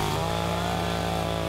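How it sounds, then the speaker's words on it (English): A chainsaw runs steadily at close range, cutting through a stack of pancakes, with a continuous loud buzzing drone and no talk over it. "I'm looking forward to chainsawing through a whole stack of pancakes"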